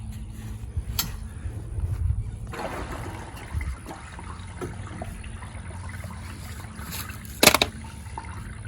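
Water trickles and gurgles steadily through piping on a tree farm, with a low rumbling undertone and a brief louder splash near the end.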